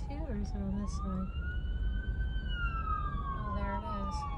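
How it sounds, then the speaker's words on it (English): Emergency siren wailing on a highway after a crash, a loud sweeping tone rising and falling steadily over heavy road noise, with a voice talking briefly at the start. "Oh, there it is. Another ambulance."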